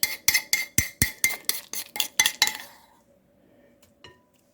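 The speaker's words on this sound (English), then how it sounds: "we're going to try to stir in our cheese mixture" A utensil stirs a cheese mixture into hot vegetables in a dish, giving about ten sharp, rhythmic clinks and scrapes against the dish. The clinks then stop, leaving quiet room sound and one last faint tap.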